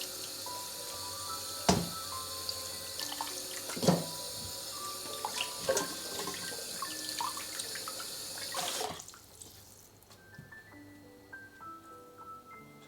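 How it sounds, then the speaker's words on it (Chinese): Running water from a tap streams steadily over beef shank and bones being rinsed in a sink, with a few sharp clanks of handling, before the flow stops and only faint drips and quiet kitchen tones remain. "捞出牛腱和骨头，清洗干净，去除粘在骨头和肉上面的浮沫。"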